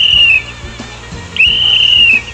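A tour guide at Wat Chalong temple in Phuket, Thailand blows two shrill whistle blasts, each held for about a second with a short gap between them, loud and close.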